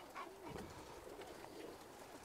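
Pigeons cooing softly in an outdoor spot where aircraft often pass overhead, low repeated coos over a steady faint background hum, fairly distant and quiet.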